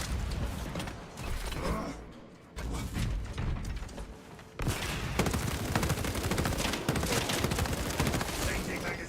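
Alien gunfire in the video game Space Marine 2, a dense, sustained rattling barrage of rapid shots with mechanical clatter. It runs loud and continuous throughout, growing heavier in the second half.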